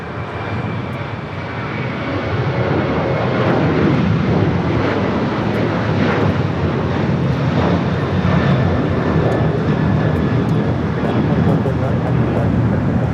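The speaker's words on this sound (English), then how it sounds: "Virgin Atlantic Flight 141 coming in from London Heathrow, an A350 1000." Virgin Atlantic Airbus A350-1000 arriving from London Heathrow and landing at Los Angeles airport, a loud, sustained jet roar that builds over the first seconds then holds steady and close, with occasional faint talk underneath.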